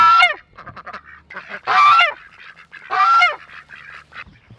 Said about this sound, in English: let these ducks out and get some duck eggs